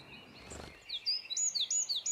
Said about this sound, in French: On entend une troglodyte.